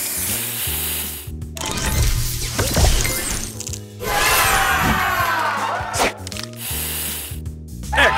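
A spray booster effect from the Match Masters puzzle game gives a loud, continuous hissing spray with crackling, shattering bursts and bright synthetic tones, all dense and layered with no gaps.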